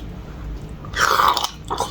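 Someone chews soft, well-stewed mushrooms: a brief, close, wet mastication burst in the second half of a short moment.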